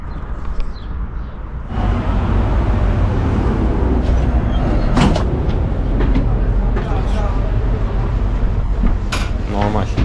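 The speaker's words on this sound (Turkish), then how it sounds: "Buradan da 11 numaralı tramvaya bineceğiz." Belgrade's number 11 tram rolling along, a steady low rumble with clinks and rattles over rail noise, while people talk nearby.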